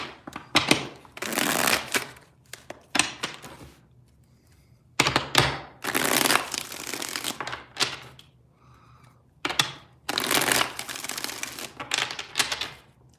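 Tarot cards are shuffled by hand in three loud, close riffling bursts, each a couple of seconds long with brief quiet gaps between, and no talking over them.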